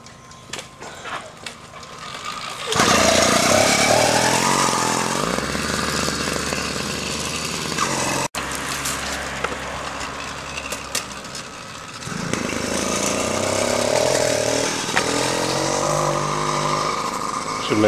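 A gas-powered motorized bicycle engine runs loudly with a steady buzzing drone, revving up around three seconds and again after twelve, close by with people talking faintly underneath.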